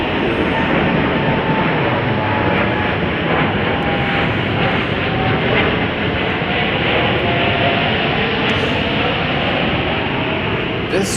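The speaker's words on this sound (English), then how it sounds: "This Dreamliner is going off to Sao Paulo, Brazil" Boeing 787 Dreamliner jet departing Chicago O'Hare for Sao Paulo, a loud continuous broadband engine roar holding steady throughout at close range, with no talk over it.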